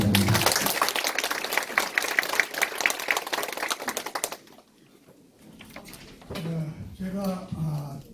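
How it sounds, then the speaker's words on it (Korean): Audience clapping at a redevelopment association general meeting, brisk and dense for about four seconds before dropping away, followed by a speaking voice over a quiet hall. "큰 박수로 환영해 주시기 바랍니다"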